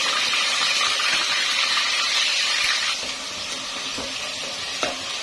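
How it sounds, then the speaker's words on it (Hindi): Onion paste sizzles steadily in hot oil in a pan for kofta curry, with scraping stirs and occasional soft clinks over a continuous close-up frying hiss. "ये प्याज को मैंने 1 मिनट फ्राई कर लिया है।"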